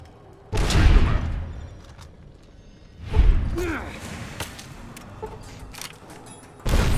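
Frag grenade explosions in Fallout: New Vegas, three loud broadband blasts with deep booming low ends, spaced a few seconds apart, each decaying into rumbling debris with quieter game sounds between.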